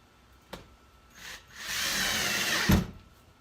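Drill driver screwing a garage storage hook into a wall stud: a faint click, a short whir, then a sustained buzzing run lasting about a second that ends in a sharp knock, close and alone.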